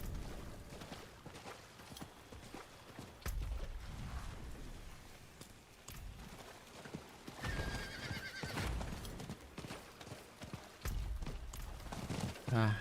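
Hooves clip-clop at a gallop from a horse mount in Diablo 4, with a whinny and game effects over faint background rain, loud bursts recurring through the stretch.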